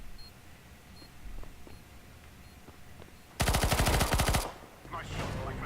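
Rapid automatic gunfire from a first-person shooter on the Shortdust map in Demolition mode bursts out loud and close for about a second after quiet scattered clicks, followed by a further shorter rattle.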